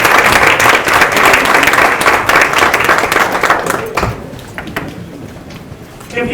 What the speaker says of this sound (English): please give yourself a huge round of applause for all of your hard work and dedication